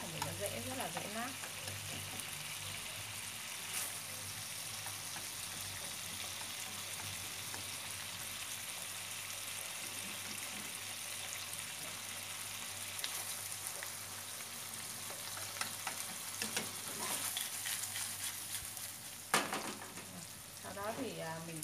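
Mackerel stir-fried lightly in an oiled pan, a low steady sizzle with occasional soft scrapes and stirring clicks, faint and continuous.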